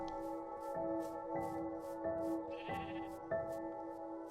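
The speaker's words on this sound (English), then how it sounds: "Oh, there's sheep." A sheep in a video game gives a series of short, repeated bleats at regular intervals over a steady tonal background, fairly quiet with no talking.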